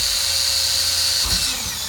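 Small drill bit whining steadily as it bores through the metal roof of a bus being converted into a home, a high sustained squeal close to the microphone for about two seconds.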